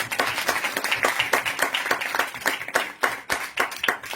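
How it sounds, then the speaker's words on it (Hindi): Audience clapping at a religious gathering to welcome a speaker, a dense burst of many hands applauding close and loud for several seconds with no voices over it. "तालियों के साथ स्वागत करेंगे।"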